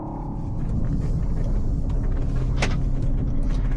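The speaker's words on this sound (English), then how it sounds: "Let's go for a ride, you guys. 2016 modified Jaguar F-Type R." A 2016 modified Jaguar F-Type R idling up close, a loud, steady, deep engine and exhaust rumble that holds constant with a brief clack partway through.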